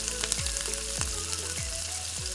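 Chopped onions fry steadily in hot oil in a kadai after whole cumin, giving a constant close sizzle broken by a stirring scrape roughly every half second.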